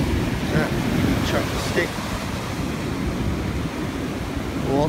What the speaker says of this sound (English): The waves are coming again